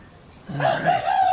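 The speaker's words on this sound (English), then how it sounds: "these damn roosters are so bad today" A rooster crows once, close and loud, its call rising and holding after a brief quiet start.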